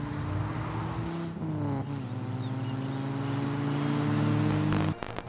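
Land Rover Defender exhaust rumbling steadily at close range, a low droning engine note that shifts pitch slightly as revs change, then drops off abruptly near the end.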